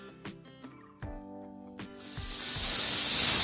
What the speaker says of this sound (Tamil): இப்போ விசில் வந்துடுச்சு, 5 விசில் வந்துடுச்சு.